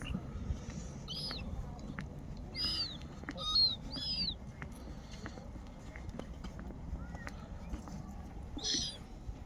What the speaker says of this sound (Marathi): एक कबूतर पण.